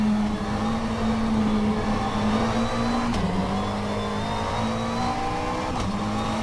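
Race car engine lapping Bathurst in the rFactor 2 racing game, a steady loud engine drone with a strong sustained tone that dips briefly twice as the revs shift, with no talk.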